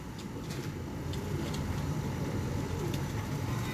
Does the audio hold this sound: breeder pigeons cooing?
yes